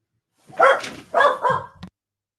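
A dog barks three times, close and loud: two full barks and then a short yip, in a quiet room.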